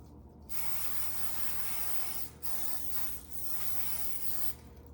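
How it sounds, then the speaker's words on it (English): An aerosol butter spray hisses onto a pan in two long bursts, separated by a short pause, close and steady. "Spray this pan."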